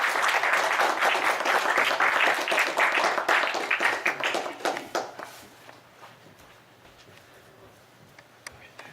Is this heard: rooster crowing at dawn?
no